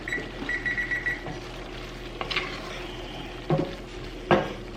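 A kitchen timer is set while Thanksgiving food cooks in a Dutch oven, giving a few quick high beeps at the start, followed by faint clinks of pots and a low sizzle, with no talking.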